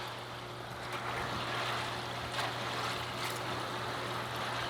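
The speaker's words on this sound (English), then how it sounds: "Right, I'm going to fire up the air, see what happens. Right, bubbling nicely" Koi pond filter air pump aerating the water, a dense, steady bubbling hiss with a low constant hum underneath, continuous and close, with no talk.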